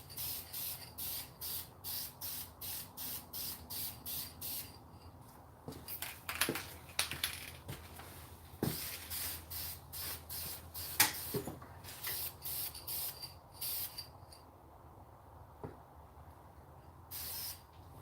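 Quick hissing bursts of spray paint from an aerosol can, a close, rhythmic series of short sprays early on, then scattered taps and handling noises with a few more sprays later.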